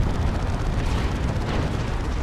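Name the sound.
plasma cannon shots in Dawn of War 2 video game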